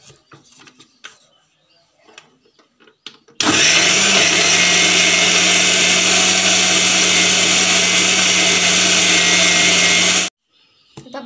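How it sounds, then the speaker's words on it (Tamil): Kitchen mixer grinder whirs loudly for about seven seconds as it grinds masala for a Tamil fish curry, meen kulambu, cutting in abruptly and stopping dead between quiet clatter of handling. "ரெண்டும் சேர்த்து இப்போ அரைக்க போகிறேன்."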